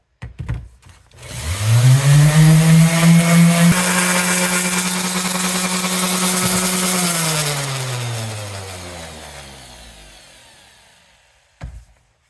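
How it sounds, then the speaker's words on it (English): A wire wheel spinning up and grinding pitting from the head of an old camp axe found in a barn, a loud steady whine lasting several seconds before winding down, with a brief knock at the end. "Might have to hit some of this with a wire wheel a second time."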